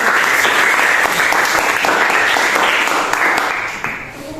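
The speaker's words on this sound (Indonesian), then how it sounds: "clap hands, tepuk tangan untuk Ona" A classroom of students claps loudly for a classmate, a dense burst of hands that stays strong and then tapers off at the end.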